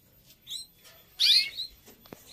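Small caged songbird up for sale, likely a finch-type breeding bird, giving a few short bright chirps and one louder twittering burst, close and fairly quiet, with no talk.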